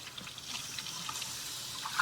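New aquarium sand substrate being stirred in water, producing soft sloshing and trickling swirls, faint and continuous with small splashy accents.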